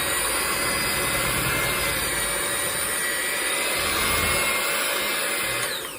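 An electric hand mixer whirs steadily through Coca-Cola chocolate cake batter, a loud, continuous high-pitched motor drone lasting throughout, briefly easing near the end.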